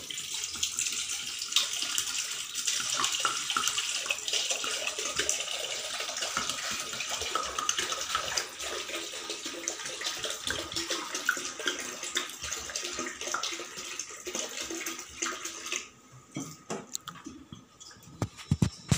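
Tap water running steadily into empty plastic bottles, a continuous bright splashing gush that tails off into quieter trickles and clinks near the end.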